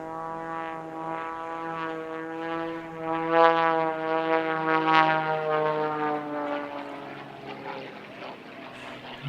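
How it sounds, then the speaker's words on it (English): An Extra 300 aerobatic propeller plane flown by Michael Goulian performs at the California International Airshow 2023. Its droning, buzzing engine tone swells louder mid-pass, then eases off while staying prominent and alone. "Michael Goulian, who flies this aircraft at air shows around the country"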